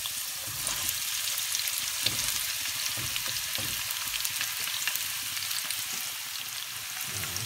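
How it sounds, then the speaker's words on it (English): Plenty of chopped onions frying in a couple of tablespoons of cooking oil, a dense, even crackling sizzle heard close up and alone for several seconds. "To my oil I'm putting quite a lot of chopped onions."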